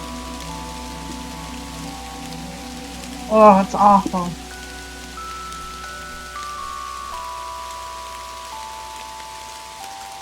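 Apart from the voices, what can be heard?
rain falling in video game Kathy Rain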